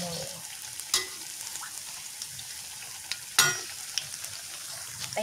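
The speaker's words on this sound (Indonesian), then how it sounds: "Dan ini tempe gembus kemulnya udah saya goreng tuh" Tempe gembus kemul fries in hot oil with a soft, constant sizzle, broken by a couple of sharp clatters of utensils against the pan.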